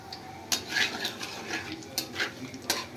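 Whole cumin seeds, bay leaf, cloves, cardamom and cinnamon in hot oil with a little ghee, heard as a faint sizzle under repeated metallic clinks and scrapes of a spoon against the pan.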